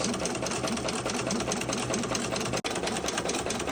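A machine steadily stitching the edge of a fabric pencil bag, its needle running in a fast, even mechanical rhythm with a low motor hum, close and continuous apart from one brief dropout near the end.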